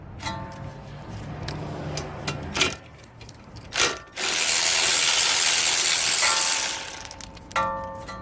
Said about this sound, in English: I'm going to use a 12mm with an extension to remove the brake line